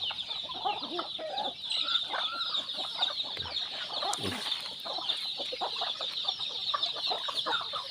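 A flock of chickens clucks and chatters continuously at morning feeding time on a farm, with many birds close by over a steady high-pitched background din.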